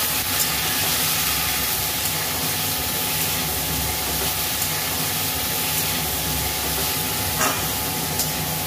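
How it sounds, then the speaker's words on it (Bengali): Spices with salt and turmeric fry in hot oil for a masoor dal and vegetable dish, giving a steady, dense sizzle that holds evenly throughout with no talking. "আমি একটু তেলের মধ্যে দিয়ে কষে নিলাম"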